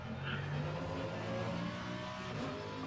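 A race car engine drones steadily through a lap in a racing video game, heard from the helmet view, a continuous mid-level hum with no talk over it.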